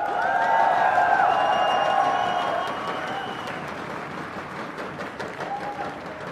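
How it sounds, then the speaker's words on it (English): Live crowd at the IPL4 League of Legends grand finals, CLG vs TSM, roars and cheers loudly for about two seconds before easing into a lower sustained crowd noise with scattered claps and voices. "Let me hear you guys in the crowd."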